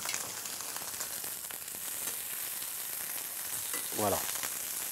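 Precooked chickpea-wheat veggie medallions sear in a drizzle of olive oil in a moderately hot pan, a steady close hiss of frying throughout, with a brief voiced sound near the end.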